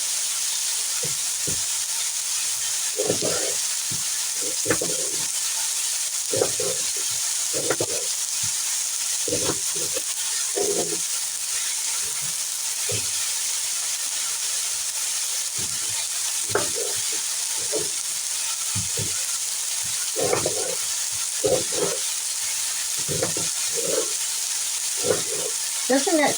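Green tomatoes frying in olive oil in a pan, a constant sizzle and hiss broken by repeated short clatters of stirring, close and fairly loud, with no voices.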